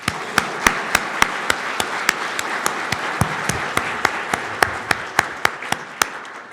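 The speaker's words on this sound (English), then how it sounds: "If you could please join me in giving all of these individuals a warm round of applause." A steady round of applause at a winter master's hooding ceremony, with sharp individual claps standing out at regular intervals over a dense wash of hands from the audience.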